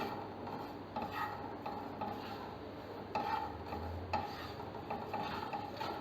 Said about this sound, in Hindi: इनको ड्राई रोस्ट करना है हमने